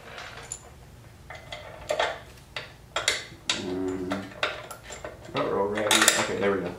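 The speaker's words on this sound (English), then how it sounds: "So drop our bolts through, get a couple nuts ready." Small metal bolts and nuts clink and rattle in hand during a Harley-Davidson rider backrest install, a run of close, sharp metallic taps and jingles getting busier toward the end.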